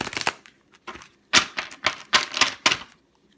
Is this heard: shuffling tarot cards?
yes